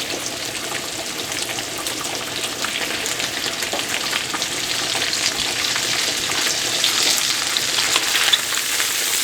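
Vegetables browning in a hot pan for Creole-style Haitian spaghetti, a dense continuous sizzle that grows slightly louder, with faint stirring and no talking.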